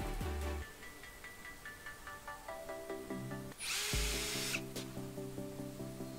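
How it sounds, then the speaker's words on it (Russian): A power drill whines in short bursts with pauses between, drilling and driving self-tapping screws, then a louder hissing burst, followed by more steady drilling runs, close and clear. "Изначально делаю разметку, сверлю, естественно, и затем уже вкручиваю саморезы."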